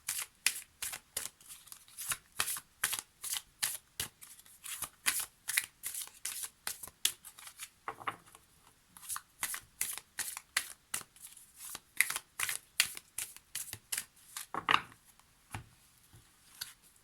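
Oracle cards being shuffled by hand over a long stretch, a steady run of crisp, close riffling bursts in quick rhythm with brief pauses, fairly quiet, no talking.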